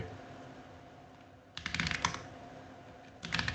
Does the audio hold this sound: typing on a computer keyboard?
yes